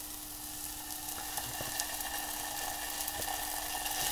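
Hoisin sauce cooks with aromatics in a hot pan, giving a steady, close sizzle with a few faint scrapes and clinks and no voices.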